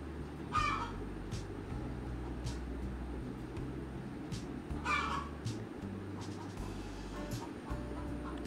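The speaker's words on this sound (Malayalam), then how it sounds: "പുറകിൽ എൻ്റെ ഒരു കോഴി മുട്ടയിട്ടിട്ട് കൊക്കുന്ന സൗണ്ടുണ്ടേ." A hen clucks and cackles after laying an egg in a backyard, with two louder bursts of calling rising over a steady, noisy rural background.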